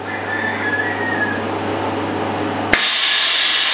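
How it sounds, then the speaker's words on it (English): A Vevor chamber vacuum sealer pulls air from its chamber around bagged chicken, a steady close motor drone that ends in a sharp click and a sudden loud hiss as air rushes back in. "It's pulling the air out of this chamber, and it's about to all dump here in just a second and quickly suck the bag to that chicken."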